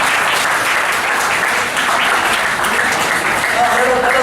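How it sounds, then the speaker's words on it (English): An orientation audience claps loudly and steadily, with the dense hand-clapping close and filling the whole stretch, and some voices mixed in near the end. "I just want to give you a clap."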